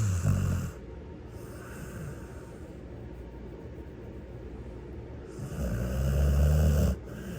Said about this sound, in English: he was just like literally snoring in my lap